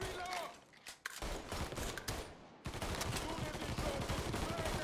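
Gunfire breaks out in the crime video game Mafia 3, with dense bursts of automatic shots and scattered single cracks blending into a continuous noisy barrage under faint background sound.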